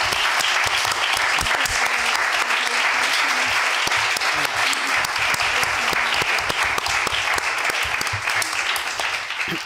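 Sustained, dense applause from a lecture audience closing a talk on Miguel Primo de Rivera, loud and steady for nearly ten seconds, tapering slightly at the end, with faint voices mixed in.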